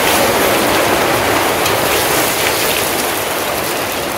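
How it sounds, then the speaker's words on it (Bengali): Radhuni seeds and garlic tempering in hot oil in a wok, a loud, dense, steady sizzle that crackles without pause and fills the whole span, with no voices. "তেলের উপরে আমি কিছুটা রাঁধুনি দেবো ফোড়নে।"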